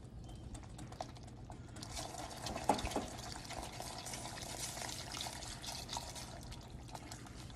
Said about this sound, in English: we'll add in the rum